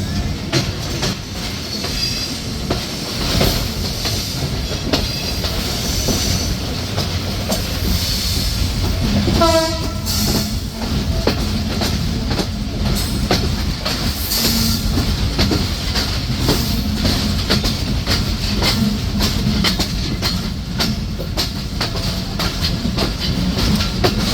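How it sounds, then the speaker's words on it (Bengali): Barendra Express intercity train rolling into Natore station, a steady loud rumble of wheels and carriages with rhythmic clatter and a brief rising squeal or horn-like tone midway, continuous throughout. "ট্রেনটি প্রবেশ করছে কাঁচাগোল্লার নগরী এবং বনলতা সেনের নগরী নাটোরে"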